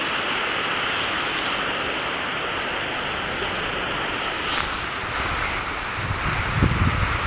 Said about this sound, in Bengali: খুব জোরেই বৃষ্টিটা হচ্ছে